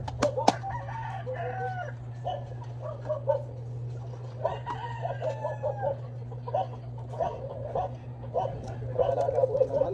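Pet chickens cluck and chatter steadily outdoors while a rooster crows in the mix, over a constant low hum, with scattered sharp knocks and faint voices in the background.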